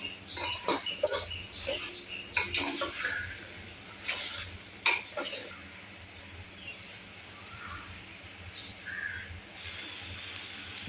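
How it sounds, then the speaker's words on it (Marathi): Raw green mango pieces sautéing in oil in a pan, with steady sizzling and repeated stirring clatters, fairly close; a faint bird call appears briefly in the background. "तेलात अशी कैरी जरा परतून घ्यायची"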